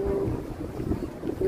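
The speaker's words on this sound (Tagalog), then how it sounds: "Sobrang sobrang hangin." Strong wind at Dubai Creek Harbour buffets the microphone, a steady low rumble with gusty swells, with murmured voices faintly underneath.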